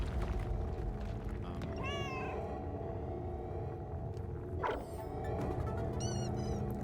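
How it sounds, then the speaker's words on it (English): A house cat meows a few times, two short rising calls a few seconds apart, faint against a low background rumble with no talking. "That's my cat."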